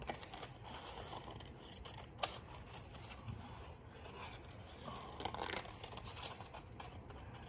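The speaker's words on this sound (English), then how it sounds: "Not really turning my scissors too much." Scissors snip through paper to cut a St. Patrick's Day design, faint close crisp cuts and light paper rustling with occasional sharper clicks, quiet and uneven throughout.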